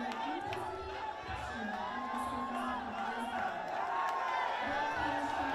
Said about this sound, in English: It's a wave of sound rolling through the stadium